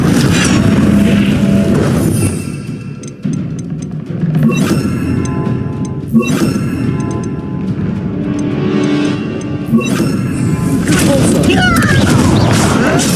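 Explosive blasts from a fire spell in the Hogwarts Legacy video game, loud booming bursts recurring every few seconds over a dense rumbling game soundscape.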